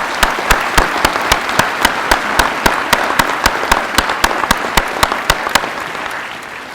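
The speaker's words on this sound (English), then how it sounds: "if you would join me in a round of applause for him" Applause at a police promotion ceremony, heard as steady, rhythmic clapping with sharp regular claps over a soft crowd wash, fading slightly toward the end.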